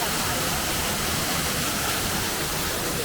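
A waterfall at EPCOT in Walt Disney World pours in a steady, loud, broadband rush that fills the whole moment without any break.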